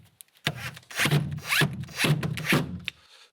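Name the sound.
fixing a window support bracket onto a concrete wall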